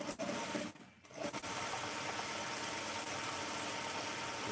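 A sewing machine runs a stitch along a trouser edge, with a continuous fast mechanical whir that pauses briefly near the start and then resumes steadily, close and moderately quiet.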